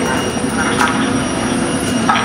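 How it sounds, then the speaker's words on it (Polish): A Polish Regio passenger train bound for Gniezno pulls into a Poznań station, a loud, close, steady rumble of wheels and carriages with faint squeals on top. "Proszę, wjazd Regio do Gniezna."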